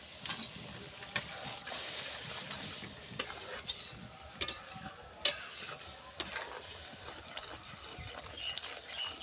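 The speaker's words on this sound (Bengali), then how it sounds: "মশলার মধ্যে অল্প করে আমি চিনি দিয়ে দেব, দিয়ে নেড়ে দেব" Spices and a little sugar are stirred in a pan for a Bengali cabbage dish, with repeated sharp scrapes and knocks of a spatula against the metal over a soft background sizzle and no talking.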